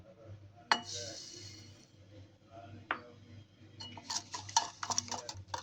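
Eggs and sugar are stirred together in a bowl, giving light clinks and taps of a utensil against the bowl, scattered at first and then quicker and busier toward the end, with faint background noise.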